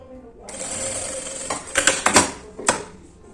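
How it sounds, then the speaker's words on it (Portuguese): A sewing machine runs a securing seam through fabric lining near a zipper, a steady close mechanical whir broken by several sharp, louder bursts of stitching toward the end. "E faço a costura de segurança."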